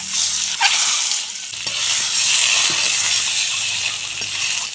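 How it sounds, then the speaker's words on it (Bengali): Eggs frying in hot oil in a wok, a steady bright sizzle and hiss that runs throughout with occasional stirring clicks, close and fairly loud. "এখন ডিম ভেজে নেব।"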